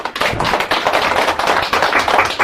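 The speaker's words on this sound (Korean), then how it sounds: "우리 한영수 선생님 박수로 모십사" A crowd claps to welcome a speaker at a church ministers' protest gathering, dense, close applause running throughout with uneven bursts and no speech over it.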